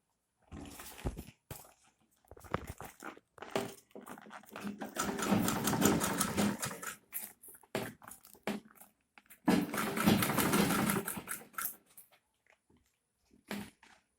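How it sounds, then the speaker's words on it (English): A sewing machine stitching fabric for a DIY handbag runs in several bursts of rapid mechanical chatter, separated by pauses and soft handling clicks. "So I'll continue my sewing."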